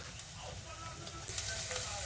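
Softened onions fry in a pan with a steady, close sizzling hiss, broken by a few faint utensil clicks.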